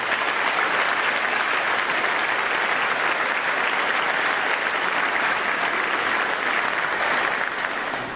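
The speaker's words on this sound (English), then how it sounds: "Can we please give Mrs. Bertelsen and Mrs. Litton a round of applause for being our sponsors?" Sustained applause from a high school scholar night audience honoring two sponsors, a loud, dense, unbroken wash of clapping that holds steady for several seconds before easing slightly at the end.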